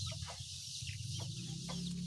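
Pet chicks cluck and peep softly while pecking at watermelon, several short repeated calls at close range over a steady low hum.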